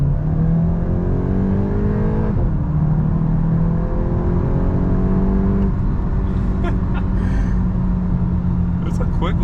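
A 2022 VW Golf GTI accelerates on the road, its engine note rising steadily through the gears as a loud, close drone with tire and wind rumble underneath and a driver talking over it.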